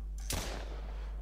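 A single pistol shot in an Unreal Engine 5 weapons system, sharp and close with a short decaying tail over a steady low hum.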